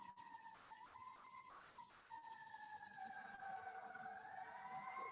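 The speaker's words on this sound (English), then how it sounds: "I'm just waiting until the ambulance goes away." An ambulance siren passes outside, a faint, distant wailing tone that rises and falls, first broken into short pulses and then sliding smoothly, with no talk over it.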